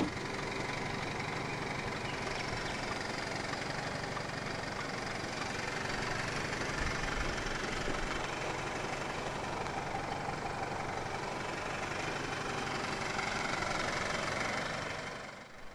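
A 2005 BMW 320i, an early Malaysian-spec E90 sedan, idles with a steady, even engine hum and light mechanical ticking, close and continuous with no talking, easing off at the very end.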